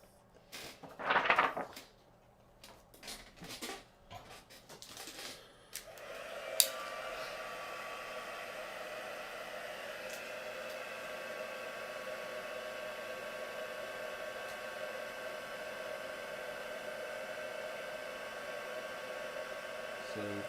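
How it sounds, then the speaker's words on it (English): A heat tool melts clear embossing powder on a stamped craft piece, switching on partway through and then blowing as a steady, even whoosh to the end after some earlier handling sounds. "I'm just going to heat emboss that now"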